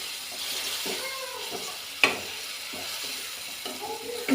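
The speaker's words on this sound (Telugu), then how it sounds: "1 స్పూన్ సోయా 1 స్పూన్ చాలు. ఇవి బాగా మిక్స్ చేసుకుని" Chapati noodles being stirred with soy sauce in a pan, giving soft scraping and shuffling strokes over a faint sizzle, with a sharp clink near the middle.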